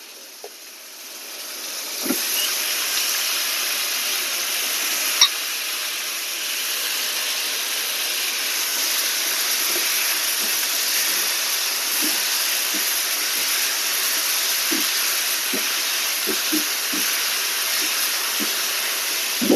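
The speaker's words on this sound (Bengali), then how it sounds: "একটু আলুটা ভাজা ভাজা হোক" New potatoes fry in hot oil with onion and salt for a rohu fish curry, giving off a steady, close, even sizzle that continues throughout, broken by occasional faint clicks and pops.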